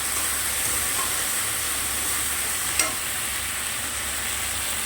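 Spice paste with ground whole dry red chillies frying in a pan with a splash of water, a steady close sizzle with a soft brief pop near the end, no talk.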